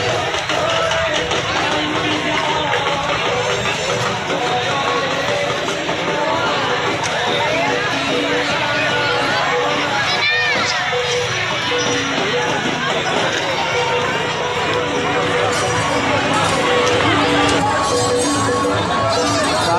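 A dense, large crowd fills the air at the Koraput Rath Yatra festival, a constant loud roar of overlapping voices and chatter with no breaks.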